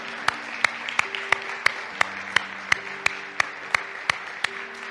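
A church congregation claps in unison, a steady, even beat of sharp claps sounding together over music.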